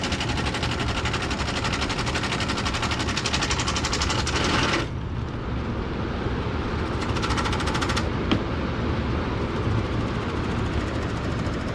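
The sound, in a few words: air conditioner unit running in fan mode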